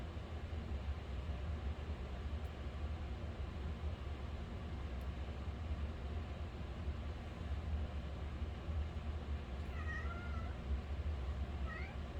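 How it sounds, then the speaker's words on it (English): A female house cat meows a few times near the end, short rising calls over a steady low background hum, with no one talking. "She usually only meows when she wants attention."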